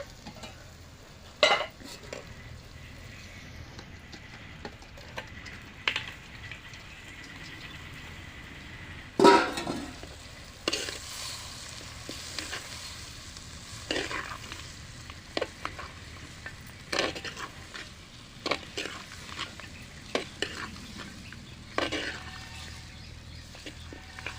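Mutton frying in a pan, Telangana style, with a soft continuous sizzle under intermittent scrapes and clinks of stirring, close and moderately loud, one sharper knock near the middle.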